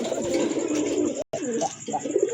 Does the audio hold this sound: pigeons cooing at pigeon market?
yes